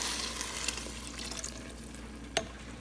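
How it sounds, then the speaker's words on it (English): Water pouring into a pot of ground beef for potato soup, a steady close splashing and sizzling hiss with a brief sharper clink near the end. "And now I'm gonna add water,"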